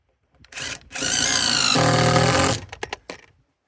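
A power drill driving the last screws in an off-grid arctic cabin, with a loud sustained whir lasting about a second and a half, pitch shifting midway, followed by short bursts and clicks as it stops.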